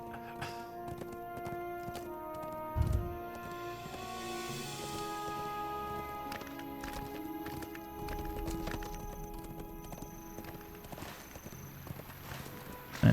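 Horse hooves clip-clop steadily from a mount in LOTRO's War of the Three Peaks content, a moderate rhythmic clatter over game ambience, with a sharper thump near the start.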